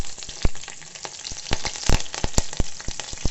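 Green chilies fry in hot oil for a mushroom biriyani, with a close, steady sizzle broken by frequent sharp crackles and pops at irregular intervals.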